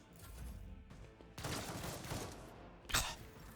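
Sniper rifle fire in Warhammer 40,000: Rogue Trader comes as a burst of loud, crackling shots followed by a single sharp, heavy report, with rumbling battle noise between them.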